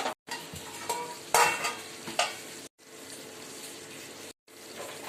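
Raw banana curry is stirred in a pan with repeated spatula scrapes and clanks over a low sizzle, and short gaps of silence break the sound.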